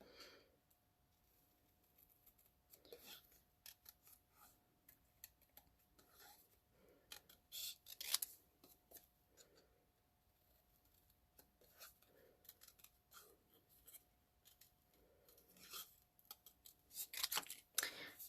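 Scissors snip through Whisper White cardstock in scattered, crisp cuts, quiet and close, with brief clicks and paper rustle between the louder bursts and no talking.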